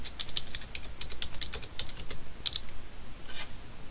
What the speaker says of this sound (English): And then I press Enter.